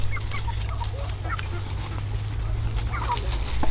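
Chickens cluck and squawk in scattered bursts as they are chased around a rural farmyard, heard over a steady low rumble of background noise.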